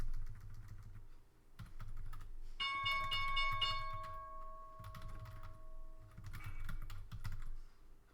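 A stock market opening bell on a live day-trading stream rings as one clear, sustained tone for a few seconds and then fades, with steady computer keyboard typing and clicking close by throughout.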